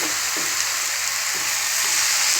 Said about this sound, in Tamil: இப்படி நல்லா மிக்ஸ் பண்ணிக்கலாம்.